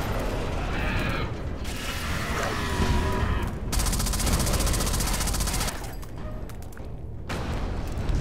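Rapid, dense gunfire and mechanical rattling from the video game Alien Breed, loud and nearly continuous, with clattering metallic bursts and brief drops between volleys.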